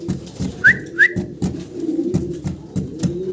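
Pigeons at a pigeon sale give low, throaty coos in a repeating rhythm close by, along with a couple of short higher whistling notes and no speech.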